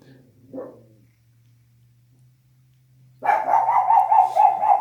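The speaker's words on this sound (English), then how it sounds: "every time I make a video, my dog starts barking" A dog barks in quick repeated bursts, loud and close, breaking in after a faint sound and near silence with a low hum, in a garage where a leaking Harley primary is being worked on.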